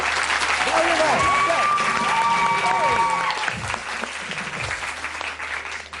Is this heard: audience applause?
yes